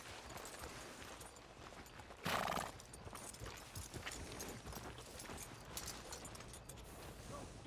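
Horse hooves clip-clop with a loud neigh partway through in the video game Red Dead Redemption 2, with game ambience around it and no speech.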